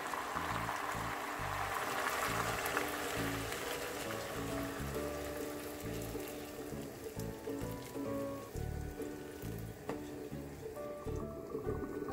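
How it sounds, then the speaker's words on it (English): Water pours and splashes steadily into a cooking pot for potato stew for several seconds, a continuous liquid rush with faint clinks and background music-like tones. "now I'm gonna add some water or some soup if you have any"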